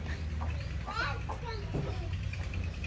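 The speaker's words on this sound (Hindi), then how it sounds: "वो देखो मुर्गी आ गई अंदर" A hen gives a few soft clucks amid steady background noise on a buffalo farm, with a voice speaking briefly nearby.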